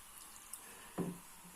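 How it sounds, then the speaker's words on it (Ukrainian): Water poured into a yogurt container to rinse the yogurt from its walls: one short, soft splash midway through an otherwise hushed stretch. "я так наливаю сюди воду, щоб йогурт не пропав, так, на стінках."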